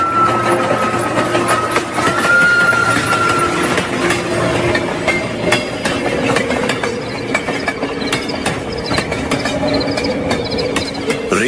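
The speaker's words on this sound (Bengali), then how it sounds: "রেল ইয়ার্ডে শীষ দিয়ে চলে গেছে রাতের ট্রেন।" Night train passing through a rail yard, a steady loud rumble with clattering wheels and a sustained tonal whistle-like whine running throughout.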